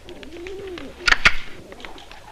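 Pigeons coo softly in a low, rolling call, with a brief burst of fluttering wings in the middle, close by and moderately quiet.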